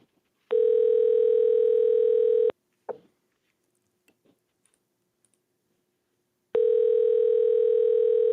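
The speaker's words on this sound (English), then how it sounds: "Can you hear that ringing?" A telephone ring tone sounds twice, each a steady two-second buzz separated by a long gap with faint clicks.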